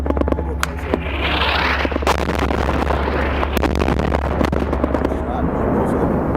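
A 2000-pound JDAM bomb dropped by an F-16 strikes a target, heard as a loud, sustained roaring blast with broad rumble and crackle that fills the whole stretch, with scattered sharp pops over it.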